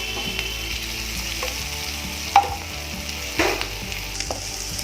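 Capsicum and chopped green chili fry in a pan with a continuous close sizzle, broken by a few sharp clinks and scrapes of a utensil, with no voices.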